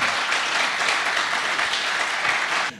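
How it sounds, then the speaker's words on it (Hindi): Audience applauding readers at a Dainik Jagran literary talk, a dense, steady wash of many hands clapping close by for nearly three seconds before cutting off abruptly. "पाठकों के लिए एक ताली जरूर होनी चाहिए।"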